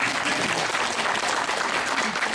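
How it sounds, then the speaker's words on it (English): An audience at a Toronto health show claps after a presentation, a steady, dense round of applause from a crowd indoors that carries on without a break. "I really don't understand why you clapped after his presentation."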